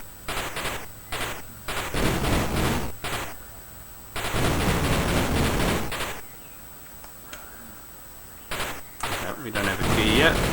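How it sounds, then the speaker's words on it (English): Rapid bursts of gunfire from the Atari 7800 dungeon game Dark Chambers come in repeated clusters with short gaps, loud and steady, under a constant high electronic tone. "Hold the button down and rapid fire."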